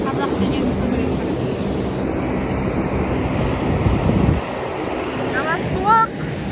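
An airliner at the airport gives a steady loud jet engine roar with wind buffeting nearby, and a voice speaks briefly over it.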